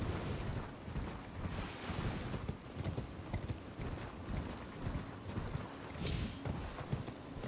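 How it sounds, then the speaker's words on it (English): The horse Torrent gallops in Elden Ring with steady, rhythmic hoofbeats running continuously throughout, mixed with faint mechanical creaks and ambient game sound. "See, I love the horse."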